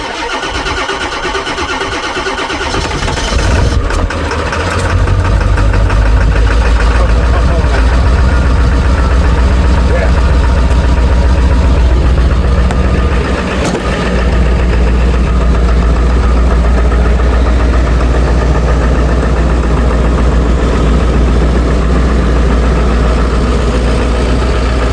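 A Ford 7.3 diesel plow truck cranks over after glow-plug heating and fires up on a cold morning, then settles into a loud, steady diesel idle with a low rumble and faint clatter that continues to the end.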